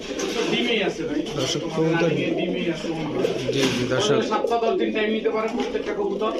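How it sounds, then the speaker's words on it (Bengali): Genuine Pakistani Jhak-gola pigeons coo in low, throaty murmurs throughout, mixed with a person talking nearby over steady background noise. "পাকিস্তানি জেনুইন ঝাঁকগলা কবুতর ডিমে চলে আসছে"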